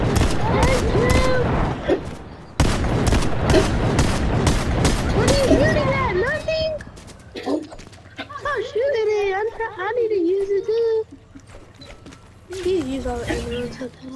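Gunfire in Fortnite, a burst of rapid shots in the first seconds that gives way to loud excited talking and laughter from several players.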